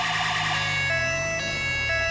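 A police car siren in the video game GTA V wails loud and steady, a continuous tone that shifts pitch slightly partway through, with no talking over it.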